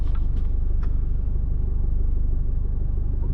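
Dump truck hauling a wide-load mining bucket rolling past on an outback road, a heavy steady low rumble close by, with no speech.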